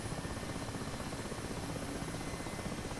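Mi-8 Hip transport helicopter in the DCS World flight simulator, hovering with a constant dense rotor and turbine roar that holds steady and loud throughout, with no talk over it.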